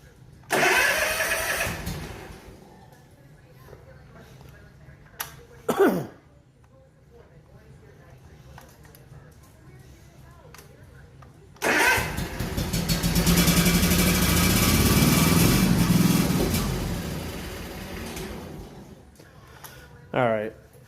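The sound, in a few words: engine cranking and trying to start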